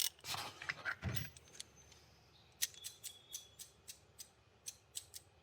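Rapid series of crisp metallic clicks from a Husky 144-tooth ratchet being turned, a quick burst of handling noise followed by an evenly spaced run of sharp, close clicks in a quiet room.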